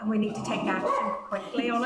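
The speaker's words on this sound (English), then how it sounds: "Pardon the dog, again, he lets me down every time." A dog barks a few times in the background of an online committee meeting, the yaps mixed under someone speaking steadily about taking quick action.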